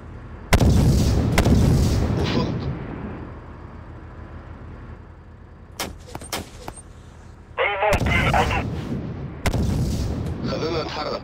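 Gunfire and heavy booms from the war video game Syrian Warfare go off in sharp, separate bursts, some loud and some fainter, with quiet stretches between them.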